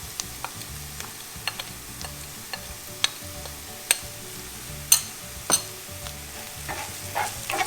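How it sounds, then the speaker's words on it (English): Onions sautéing in a pan, a soft steady sizzle broken by intermittent sharp clicks and scrapes of a spoon against the pan, fairly close and with no speech. "So now onions are sauteing for about 3 minutes now."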